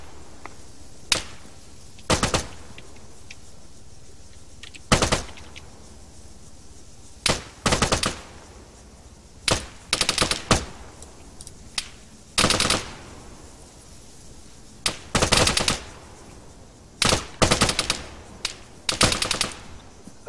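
Bursts of automatic gunfire from an ARMA 3 combat patrol, loud and close, firing in short irregular volleys with brief pauses between them and no talking.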